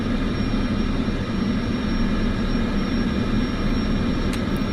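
A simulated aircraft engine idles after start in Microsoft Flight Simulator 2024, a loud, steady, unbroken turbine-like drone with a dense low rumble and a faint high whine held evenly the whole time.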